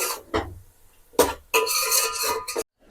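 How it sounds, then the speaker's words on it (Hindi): Yogurt with ginger-garlic paste being stirred and fried in a pot, with a few scraping clinks of a spoon against metal followed by a steady sizzling hiss that cuts off abruptly. "ये हमने दही डाल करके भी अच्छे से भून लिया है"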